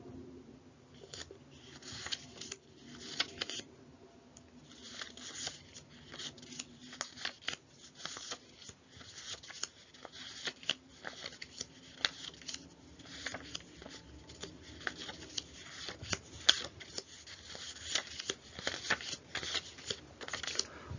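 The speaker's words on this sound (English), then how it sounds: "You need to take your cards out of the packet and shuffle them like this." Phonics cards are shuffled and handled by hand in a steady run of soft papery slides, taps and flicks. The sound is faint and close throughout.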